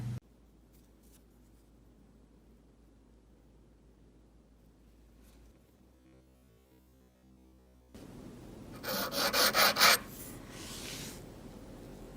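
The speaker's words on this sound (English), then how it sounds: "So we take the mineral, we scratch it, and we see what color is produced." After a quiet stretch, a handful of quick, gritty rasping strokes scrape a mineral across a hard surface close by for a streak test, followed by a softer rubbing.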